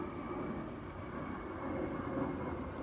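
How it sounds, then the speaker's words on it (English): An airplane passes overhead, a steady low roar and rumble that swells slightly toward the end, heard alone at moderate loudness. "this plane is fucking loud"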